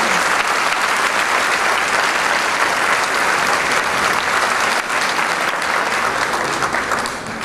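A large audience at an opera-mariachi concert applauds steadily and loudly, a dense wash of clapping that holds throughout and eases slightly at the end.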